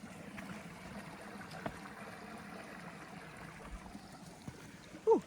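A small creek flowing at a crossing on a spring hike in Northern Michigan, a faint, steady trickle and babble with a couple of soft knocks and a brief louder bump near the end, no voices.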